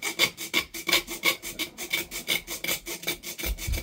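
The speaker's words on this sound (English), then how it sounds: "Just sawing through this here." Rhythmic back-and-forth rasping of a hand saw cutting safety slots into a plastic Sig Sauer P320 grip module, about two strokes per second, close and steady.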